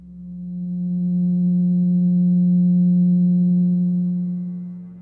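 A pure, steady 180 Hz sine tone, chosen to stand for a triangle's 180 degrees, swelling in softly, holding a smooth unwavering hum for several seconds, then fading out, with nothing else heard.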